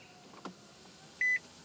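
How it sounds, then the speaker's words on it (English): A car's power window motor whirs briefly as the window rolls up, a short faint electric hum in an otherwise quiet parked car, preceded by a soft click. "Hold on, let me roll up my windows."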